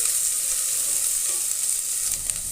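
Garlic cloves sautéing in a stainless steel cooker for green gram biriyani, a steady close hiss of frying with faint scraping from stirring throughout, no talking.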